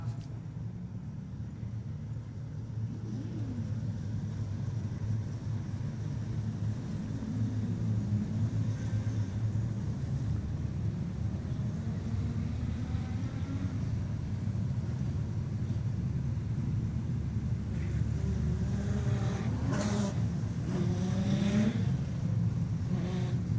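Production sedan race cars at Kingaroy Speedway rumble steadily as the field lines up for a Stampede A-main, a low continuous engine drone with occasional revs swelling near the end.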